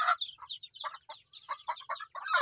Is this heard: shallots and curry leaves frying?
no